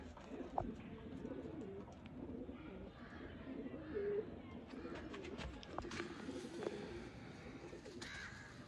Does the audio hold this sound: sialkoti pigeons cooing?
yes